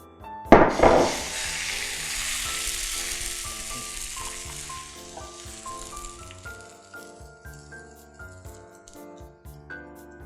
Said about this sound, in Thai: เดี๋ยวเราจะมาทอดเครปกันนะคะ